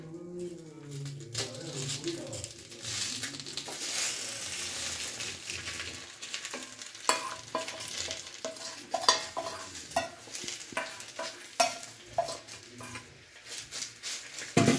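Chicken mixture poured onto a hot banana leaf, giving a soft hiss and sizzle with scraping and stirring taps from a utensil, moderately close and fairly quiet.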